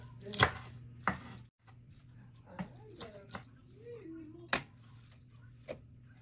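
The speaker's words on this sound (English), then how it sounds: "I'm gonna slice it like this." Sharp knife chops on a cutting board while preparing oven-roasted chicken thighs and sautéed kale, a few distinct near strikes spaced irregularly, with a voice talking between them over a steady kitchen hum.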